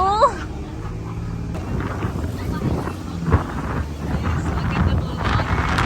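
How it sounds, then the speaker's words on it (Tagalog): Strong gusts buffet the microphone on a Boracay beach, a steady loud low roar of wind noise filling the whole stretch, with brief voices and a faint higher whine early on. "ang ganda ng weather pero sobrang hangin"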